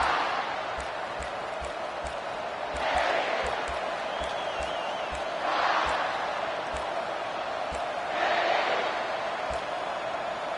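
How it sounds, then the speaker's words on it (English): A college football video game stadium crowd roars in broad waves that swell and fade in three surges, with rhythmic thumping and clatter underneath and a steady background din. "This crowd, full throat, splitting the eardrums and letting them know it's going to be a long day."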